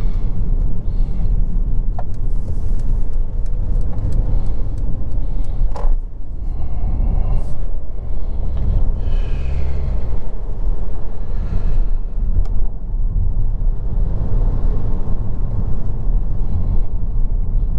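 Mercedes A 180 d AMG Line diesel car with dual-clutch automatic, heard from inside while driving, with loud low rumbling road and engine noise throughout and a few brief clicks and knocks.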